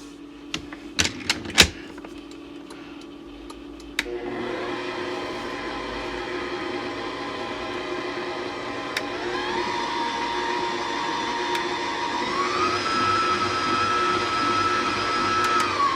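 A stand mixer beats pound cake batter in a home kitchen, first a few clicks and knocks, then a steady whirring motor hum that rises in pitch as the speed is turned up, with no talk.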